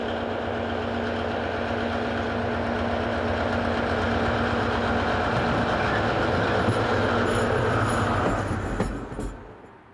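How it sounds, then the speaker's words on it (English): Station pilot locomotive TM8779 pulls away, its engine giving off a steady, heavy rumble with rattling rail noise that holds strong and then tapers off near the end. "Station pilot number TM8779 scuttles off on its next turn of duty."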